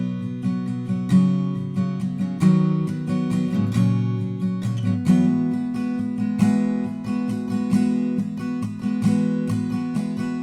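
Chords strummed steadily on a guitar for a song, with a rhythmic pattern of strokes and ringing low notes, played alone and up close.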